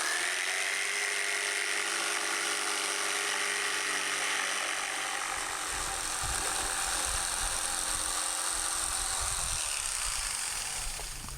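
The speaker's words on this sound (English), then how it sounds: "And then I'll drill holes for these T-nuts." A power drill bores holes for T-nuts in a wooden platform, a steady whine that drops into a rougher, lower grinding as the bit bites into the wood.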